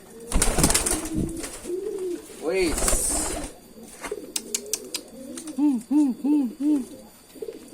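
A healthy male racing pigeon in breeding mood coos repeatedly close by, rolling throaty calls coming in bursts, with someone talking briefly at the start.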